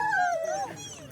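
A sled dog whimpers and whines at a musher's race checkpoint, a close high sliding cry that falls in pitch and then trails off.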